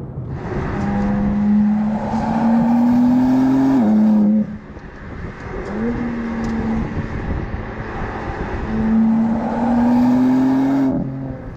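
A BMW M3 Competition engine revs up repeatedly, pitch climbing smoothly through each gear before dropping, loud and close, with short pauses between pulls.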